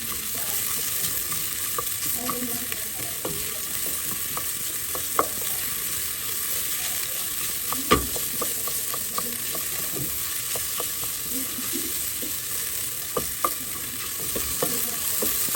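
Onions frying in a pan for mussel tinola, a constant bright sizzle with scattered scrapes and knocks of stirring, close and steady, no voices.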